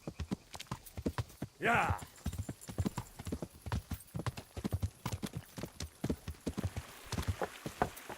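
Horse hooves clip-clopping at a steady gallop in Kingdom Come: Deliverance, a rapid even rhythm that runs the whole way through, with a short whinny-like burst early on and a brief spoken word over it.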